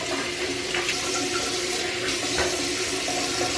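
Hot water runs steadily from a tap as a face is rinsed, a dense continuous rush with small splashing changes throughout, close and unbroken.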